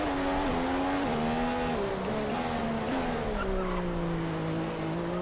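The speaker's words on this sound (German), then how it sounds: "Reifen stehen geblieben, hat sie geraucht." An F1 car in F1 2015 locks its tyres at Monaco, skidding while the engine note winds steadily down. The sound is moderately loud and continuous, with no talk over it.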